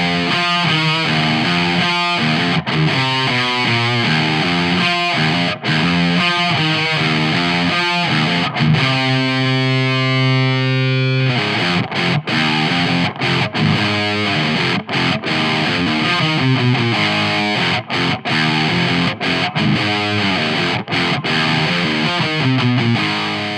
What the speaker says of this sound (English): Once you get the preamp over halfway, it just becomes really squishy sort of sounding